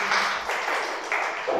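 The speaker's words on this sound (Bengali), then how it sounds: "জোরে হাততালি ওর জন্য।" Audience clapping at a quiz competition held at Santiniketan Medical College and Hospital, a dense, steady burst of hand claps filling the short moment without pauses.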